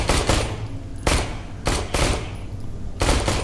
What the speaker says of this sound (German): Schnellfeuermaschinenpistole.